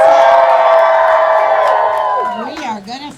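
Crowd at a lumberjack show's hot saw event cheers and whoops loudly and steadily, the din fading after about two seconds as voices break through nearby.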